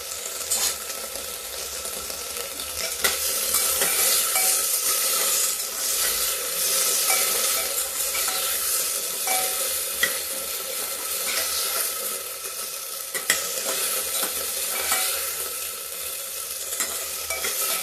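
Whole moong and red masoor lentils roast in a pan, a continuous dry hissing sizzle with the scrape of stirring rising and falling throughout, steady and close, with no voices.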